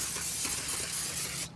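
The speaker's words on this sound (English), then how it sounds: "We just want to spray that off with a little bit of brake clean." Brake cleaner sprayed from an aerosol can onto a rear brake rotor of a Ford Flex, a close, loud, continuous hiss lasting over a second before cutting off abruptly.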